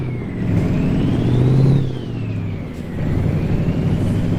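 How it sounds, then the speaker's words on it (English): A truck engine in American Truck Simulator drones nearby, its pitch climbing as it revs, dipping when it shifts, then rising again in a steady mechanical hum. "Yeah, this engine does sound different"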